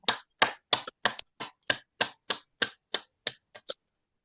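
A dozen crisp, evenly spaced claps ring out one after another at a steady moderate pace during a group wellness gathering, close and clear with no talking over them.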